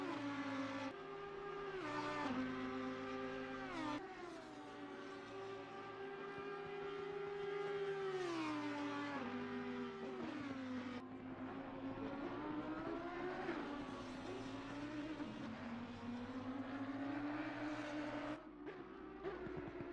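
Audi race cars at Monza in Assetto Corsa Competizione roar through the Curva Grande, engines climbing and dropping through gear changes in long sweeping pitch lines, loud and sustained for the whole stretch.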